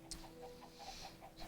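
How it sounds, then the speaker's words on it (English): In the Autocraft video game, a pen of six chickens, four grown and two chicks, gives off soft, quick clucks in a faint, steady patter. "So now there are 6 chickens in there."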